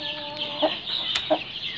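Chicken and turkey chicks at a farm cluck softly in a few short calls over steady background noise, with no one speaking.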